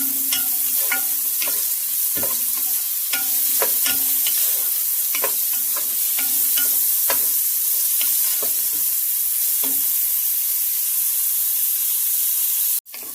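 Onions browning in a pan for Moroccan harira soup, a steady loud sizzle under repeated scraping stir strokes, with a brief knock near the end.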